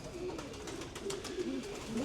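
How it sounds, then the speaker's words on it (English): Racing pigeons in a backyard loft coo softly and repeatedly, low rolling calls close by over a faint, steady background murmur. "This is going to be a mealy racing pigeon."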